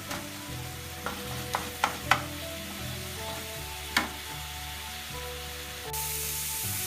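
Red amaranth leaves fry in a pan with a low crackling sizzle while a spatula scrapes and taps the pan a handful of times in quick sharp strokes, close by, with a faint hum beneath.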